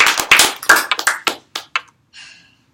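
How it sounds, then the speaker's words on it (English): A scattering of claps from a small group, loud and close at first, then thinning to a few stray claps before fading out. "Again, let us clap her."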